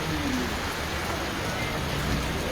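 Heavy unseasonal rain falls steadily over the Halvad countryside in winter, a dense, continuous hiss of drops on surfaces that stays loud and unbroken throughout.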